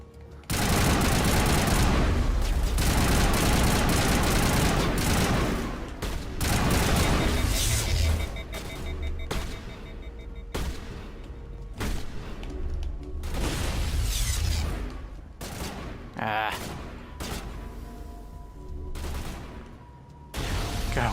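Sustained gunfire in Mass Effect, long loud bursts of rapid shots broken by short pauses with occasional heavier booms, continuing for about twenty seconds with no talk.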